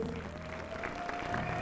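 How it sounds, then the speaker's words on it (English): Applause for the three MCs at the Miss Continental 1994 pageant, a moderate crowd clapping steadily over a faint sustained tone. "I'd like to give another round of applause for our 3 MCs tonight"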